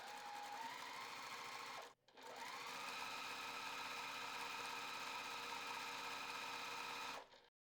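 A sewing machine stitches a quarter-inch seam across quilt fabric strips, running in a steady, fast whirring drone that stops briefly near the two-second mark and then resumes, with no talking.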